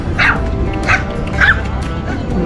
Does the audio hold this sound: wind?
no